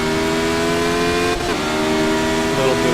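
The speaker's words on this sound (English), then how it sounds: "A little bit of backfire from the gear changes." A Radical SR8 race car in iRacing at Mid Ohio drones steadily at high revs, its engine note loud and continuous, with a brief crackling pop from the exhaust during a gear change partway through.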